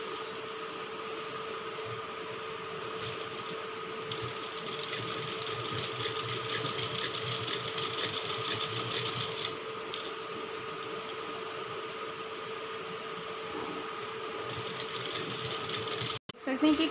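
Sewing machine stitching a blouse seam, a steady rapid whirring clatter that runs continuously at moderate loudness, stopping abruptly at the end.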